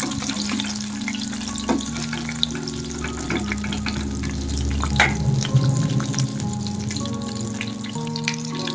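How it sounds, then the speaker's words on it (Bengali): Topse fish fry in a pan, a continuous close sizzle with crackles and spatters, no talk. "মাছগুলোকে ভালোভাবে উল্টে পাল্টে ভেজে নেব।"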